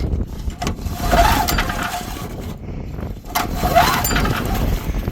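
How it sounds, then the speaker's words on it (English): Big old Briggs & Stratton engine cranking without catching, a steady mechanical churn with two louder surges, no firing. "unable to get that big old Briggs & Stratton running"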